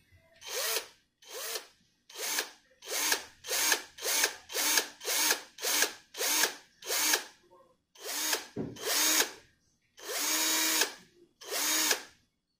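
A small, cheap Walmart cordless drill whirs in about fifteen short bursts, spinning up and stopping again in an uneven rhythm, close and fairly loud, with no voices.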